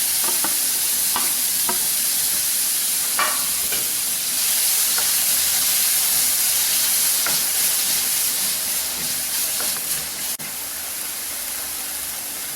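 Vegetables for oats and broken wheat idli sauté in a hot pan, giving a loud, continuous hissing sizzle with occasional stirring scrapes throughout, heard up close and without speech.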